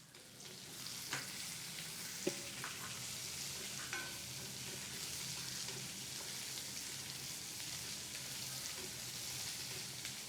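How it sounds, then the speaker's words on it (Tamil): Chopped onions frying in hot oil for a prawn gravy, a steady broadband sizzle with occasional stirring clicks and scrapes of a spoon against the pan, close and continuous. "கட் பண்ணி வச்ச வெங்காயத்தையும் இதில் ஆட் பண்ணுறேன்."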